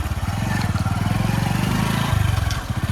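A vehicle drives through monsoon rain, its engine pulsing steadily close by with a motorcycle-like putter, faint splashes and hiss around it.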